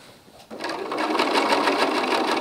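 A sewing machine starts up and runs steadily, stitching the last seam of a scrappy quilt block, its rapid needle rhythm close and even.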